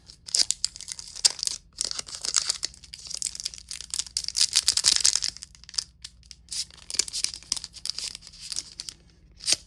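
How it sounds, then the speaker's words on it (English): A Magic trading card pack wrapper is torn open by hand, giving close crinkling and ripping plastic in irregular bursts for several seconds with brief pauses and no voices. "Let's see if I can just open it this way. Just don't hit the cards."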